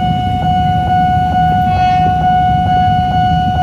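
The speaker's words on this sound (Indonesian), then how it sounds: "satu lokomotif CC 206 lansiran." A CC 206 locomotive passes a level crossing while a crossing bell rings in fast, evenly spaced pulses over a continuous low rumble.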